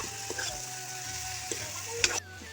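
Mustard greens stirred and cooking in a hot pan, a steady sizzle broken by a few sharp scrapes and clicks of the utensil, close and fairly quiet, with no talking.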